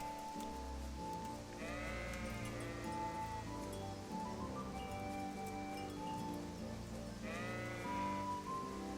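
Sheep bleat in a medieval village in Kingdom Come: Deliverance, two wavering calls standing out over a low, rumbling ambient bed with soft rustling.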